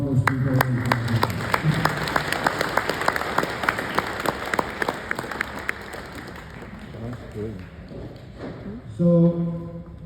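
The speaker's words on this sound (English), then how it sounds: "May we please give a round of applause to all those people." Audience applause at a 2024 Federated States of Micronesia presidential event: dense, steady clapping from a crowd that thins and fades out over several seconds, then a voice begins speaking near the end.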